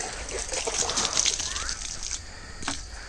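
Water tossed from a bucket onto a home garden bed of coriander, fenugreek, potatoes and red amaranth, a steady outdoor slosh and splatter lasting a few seconds with a brief burst near the end.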